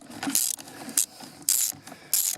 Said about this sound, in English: So I'm just going to use long extension 10mm socket straight on.